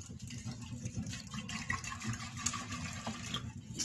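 Water splashing and running as a teapot is rinsed out for tea in a small mountain-house room, a soft, close, steady trickle with a few clinks.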